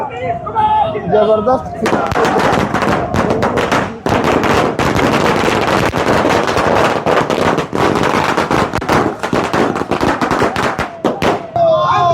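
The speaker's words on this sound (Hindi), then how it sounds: "मैं दिखा रहा हूँ पथरगामा में आतिशबाजी की जा रही है" Firecrackers and fireworks at a street celebration of an NDA election victory in Pathargama, Godda, popping in rapid, dense, loud bursts that run almost continuously, with a brief break midway and voices at the start and end.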